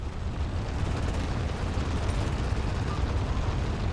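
Railgun fire and explosions in the Halo 4 video game form a loud, dense and continuous rumbling barrage with no pauses and no voices over it.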